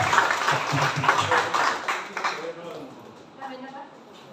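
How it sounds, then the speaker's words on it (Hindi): A small indoor family gathering breaks into applause, a dense patter of clapping hands that fades out after a couple of seconds as voices carry on beneath. "तालियां।"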